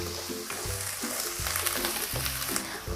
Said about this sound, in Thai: เมื่อเราผัดไปได้สักพักหนึ่งนะคะ หมูเริ่มเกือบสุก